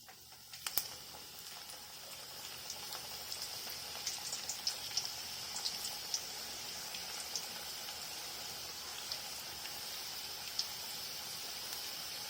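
Onion pakoda batter sizzles and crackles in hot oil on a medium flame, a soft, steady hiss dotted with small pops throughout, after an initial louder splash as the batter drops in.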